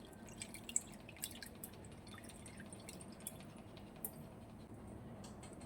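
Soaked tamarind juice trickling into a bowl, heard as faint, sparse drips and soft splashes over a quiet background with no talking.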